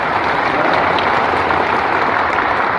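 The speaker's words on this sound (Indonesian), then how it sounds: "Kita beri tepuk tangan buat beliau." Sustained applause from an audience at a ceremony reinstating the regent of Mimika, dense steady clapping filling the room without a break.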